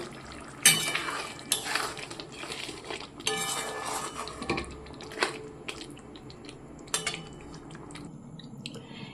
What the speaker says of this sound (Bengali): তো এবার আমি পনিরটাকে দিয়ে দিচ্ছি।